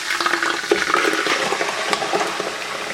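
Marinated chicken frying on high flame, with a dense, continuous sizzle and bubbling, close and fairly loud, with no voices.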